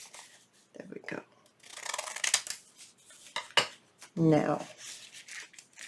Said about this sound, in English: Cut that extra little piece off.